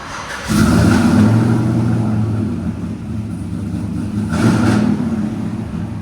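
Cammed Chevy 5.3L V8 with headers and a Flowmaster Super 50 true dual exhaust, revving hard nearby in two loud, deep rumbling bursts with a lower idle between them.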